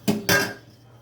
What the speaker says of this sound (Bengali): এবার আমি ঢাকাটা খুলে দেখে নিচ্ছি আলু সেদ্ধ হলো কিনা।